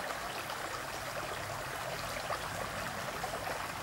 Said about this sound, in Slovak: na tomto potoku Veperec